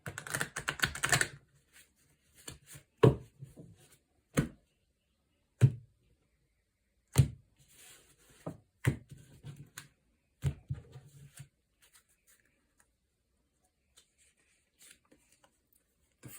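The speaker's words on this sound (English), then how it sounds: "One more good shuffle." Oracle cards, ancestor chakra wisdom cards, being shuffled by hand in a quiet room, heard as a string of sharp, separate riffles and taps, loud at the start and then fading into sparse soft rustles.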